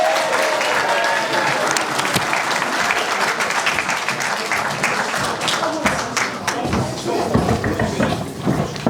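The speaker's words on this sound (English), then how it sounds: "Let's give him a round of applause" At a graduation ceremony, a crowd breaks into loud, sustained applause, dense clapping filling the room for several seconds with a few scattered cheers.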